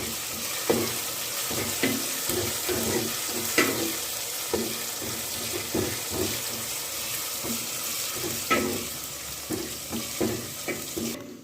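Garlic, ginger and green chili paste fries in a pan while a spoon stirs it in a steady rhythm, its repeated scrapes and knocks cutting through a continuous close sizzle with no voices.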